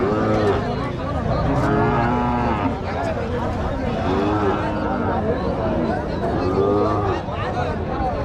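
Cows low repeatedly at a cattle market, several moos rising over a steady crowd babble, with people talking nearby throughout.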